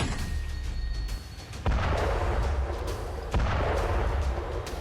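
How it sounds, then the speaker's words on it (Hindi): New Russian artillery gun firing, two heavy booming shots a couple of seconds apart, each with a sharp onset and long rumbling tail over a constant low background roar. "3 से 4 सैनिकों की टीम इस तोप को 3 से 4 मिनट में पोजीशन पर तैनात कर देती है और दुश्मन पर गोलाबारी शुरू हो जाती है"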